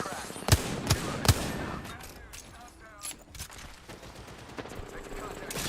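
Gunfire in Apex Legends cracks out in a few sharp shots early on, then keeps up as scattered lighter pops and impacts behind a busy game mix with a voice talking over it.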